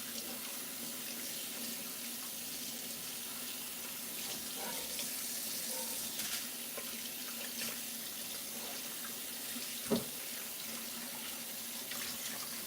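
Tap water runs steadily into a sink while catfish is washed, a constant close splashing stream with a single knock partway through and no talking.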